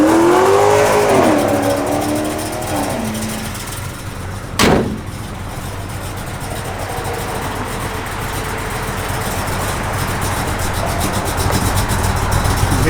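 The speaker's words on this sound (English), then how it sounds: "Hear that cam working." A 1955 Chevrolet 210 V8 with a lumpy cam idles loudly and roughly close by. One quick rev rises and falls early, then the engine settles back to a steady, choppy idle.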